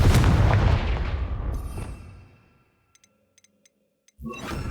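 A loud explosive blast from the Confringo spell in Hogwarts Legacy booms and rumbles, then decays over about two seconds into near silence broken by a few faint ticks, before another loud burst of noise starts.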